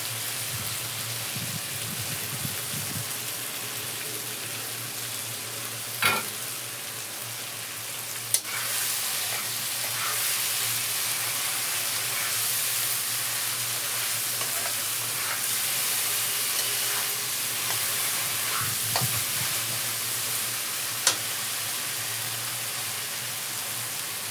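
Poppy seed and cashew paste frying in a pan, a steady broad sizzle throughout with a few sharp clicks of a utensil against the pan, close and without talk.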